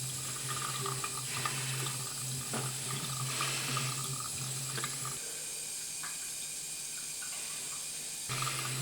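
A tap runs steadily into a sink with a continuous splashing rush, and its tone shifts slightly partway through as the water flow changes, with no voices.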